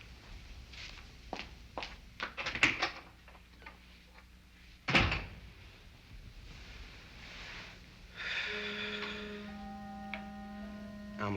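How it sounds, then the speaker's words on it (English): A door is pulled closed, a sharp solid thump standing out after a run of clicks and knocks, followed by quieter room sounds and a sustained tone. "When you leave, just pull the door closed behind you."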